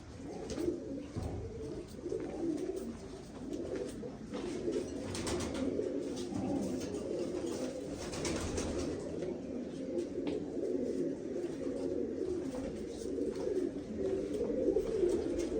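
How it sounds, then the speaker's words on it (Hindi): Pigeons of a high-quality breeding pair coo steadily at close range, soft low throaty calls repeating throughout with light rustling around them. "ये कबूतर है"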